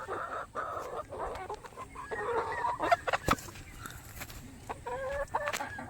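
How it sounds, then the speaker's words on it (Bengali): About nineteen hens, some already laying, cluck and murmur inside a small backyard coop, with repeated short calls and a sharp squawk rising over a soft background, near and without talk. "এই যে এখানে 19 পিস মুরগি আছে।"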